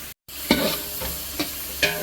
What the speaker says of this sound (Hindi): अब 2 टेबल स्पून इसमें हमने ज़ीरा ऐड किया है।